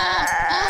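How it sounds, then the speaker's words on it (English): Goats bleat on a residential lawn, a loud, close, wavering bleat that carries on without pause through the brief moment. "It sounds like goats."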